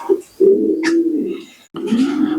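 Fancy pigeons coo up close in two low, throaty phrases separated by a short pause, with a brief higher chirp in between.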